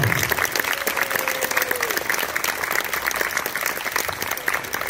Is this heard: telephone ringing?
no